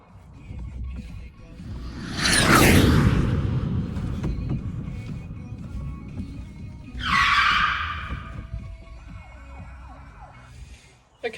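Car passes by on an A road during a test drive after new brake pads and discs were fitted, two loud swelling whooshes of traffic going past amid steady road noise, with no talk.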